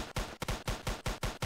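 Rapid automatic gunfire from a shootout in the police game Emergency Response Liberty County, about seven sharp loud bursts in a steady rhythm, close and with no talk.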